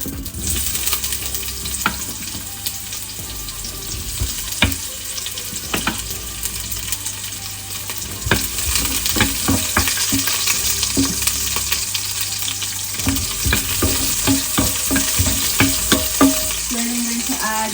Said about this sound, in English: So I'm going to start frying our onions.